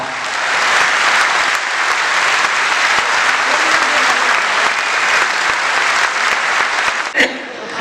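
Loud, sustained applause from a large crowd fills the whole stretch, steady and dense, ending with a brief sharp sound as it fades.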